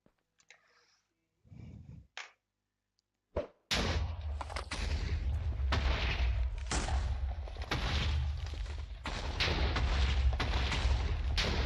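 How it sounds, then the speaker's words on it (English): Game explosions from a lucky TNT mod, including nuclear TNT blasts, erupt after a quiet start with a few soft thumps, then roll into a continuous loud barrage of booming, rumbling detonations. "Then we have the nuclear TNT. They're just a small nuclear blast."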